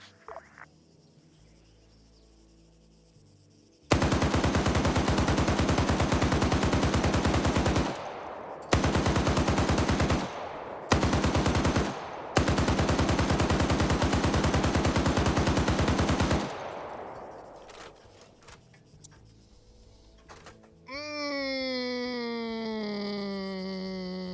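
A video game weapon fires long, loud, sustained automatic bursts separated by brief pauses, roaring for about twelve seconds before cutting off and giving way to quieter game sounds.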